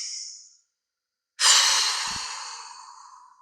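Slow, gentle breaths taken while sitting tall with eyes closed and shoulders relaxed during a calm eye yoga session: a soft exhale fades out, a pause of silence follows, then a long, steady airy breath trails off alone.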